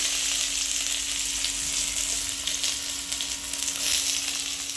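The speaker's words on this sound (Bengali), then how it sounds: "তেল গরম হয়ে গেছে, দিয়ে দেবো ফোড়ন, গরম মশলা হয়ে গেছে, দিয়ে দেবো পেঁয়াজ কুচি" Chopped onions crackle in hot mustard oil tempered with whole spices, a steady dense sizzle that stays loud and continuous with a faint hum beneath and no talking.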